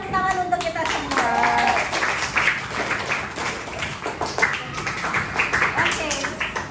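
Classroom full of children clapping their hands together in a quick burst, with young voices chattering over and around the claps.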